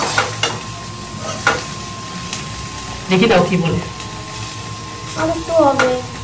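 Okra (bhindi) fries in a pan with a continuous sizzle, broken by louder scraping bursts as it is stirred, while people talk nearby.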